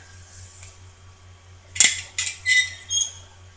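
Glass test tubes set into a beaker of boiling water for ester synthesis: a low bubbling hum, then a cluster of four sharp close glassy clinks in quick succession.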